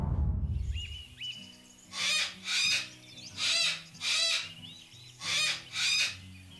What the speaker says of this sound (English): Cockatoos screech across morning skies.